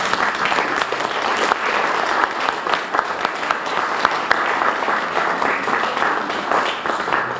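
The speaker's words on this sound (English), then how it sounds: "give you a round of applause" Audience at the West Palm Beach mayor's book launch applauds City of West Palm Beach employees, a steady, dense wash of many hands clapping throughout, fairly close and sustained.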